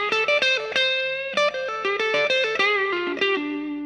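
Smooth, sustained lick from the solo in the Pulse version, played on an electric guitar with distortion and effects. Clear, bending notes ring out steadily and alone with a touch of reverb.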